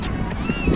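A horse's hooves clip-clop on Marina Beach in Chennai, a few close, uneven steps heard over crowd noise and nearby speech.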